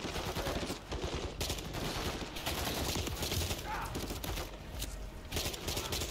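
Rapid automatic gunfire in a Modern Warfare 3 campaign mission, several sharp bursts of shots crackling back to back at close range, with faint movement and footsteps between volleys.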